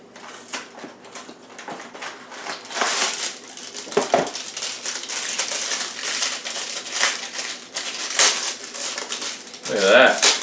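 Plastic packaging around rolled pie crusts crinkles and crackles as it is torn open up close in a kitchen, irregular rustles and snaps with someone talking in between.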